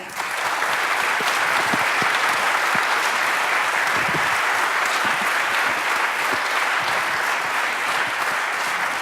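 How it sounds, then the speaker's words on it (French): A theatre audience in Avignon gives a long, even round of applause after a play, a thick continuous patter of many hands clapping at steady volume with no speech. "Des gros applaudissements."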